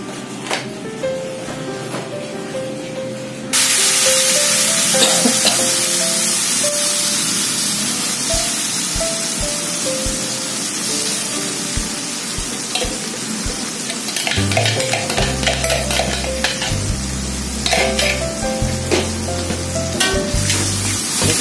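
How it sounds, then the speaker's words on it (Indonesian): Blended chili sambal sautéed in a pan gives a loud, steady sizzle and frying hiss that starts abruptly a few seconds in, with occasional stirring scrapes and clatter throughout, and no talking. "sambal yang kita udah blender tadi kita tumis ya"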